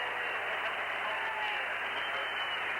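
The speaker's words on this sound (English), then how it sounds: "applause, as you would expect from his own cornermen" Applause from a heavyweight champion's cornermen in a boxing ring, a steady wash of distant clapping blended with crowd noise at an even, muted level throughout.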